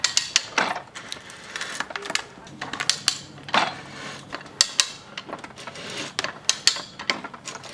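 A RIDGID ratchet die head threading steel pipe gives repeated sharp ratcheting clicks and metallic knocks in an uneven rhythm, close and fairly loud.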